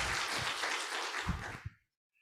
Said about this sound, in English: So let's give him a round of applause since we're calling out people.